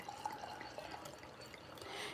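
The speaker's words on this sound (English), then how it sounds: "So I'm going to pour the first drink." A first drink is poured during a live tasting stream, giving a steady soft trickle and splash of liquid alone at moderate level for about two seconds.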